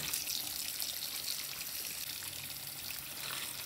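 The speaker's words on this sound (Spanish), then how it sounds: "voy a ponerlas bajo el chorro del agua de nuevo" Strawberries in a colander are rinsed under running kitchen tap water, giving a steady, soft, continuous splashing hiss with no voices.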